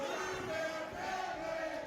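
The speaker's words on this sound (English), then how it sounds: "The Too Damn Deadly chants now coming from the PPW Nation" Wrestling fans at a PPW event chant together, a steady, somewhat distant roar of many voices that holds through the whole stretch at moderate volume.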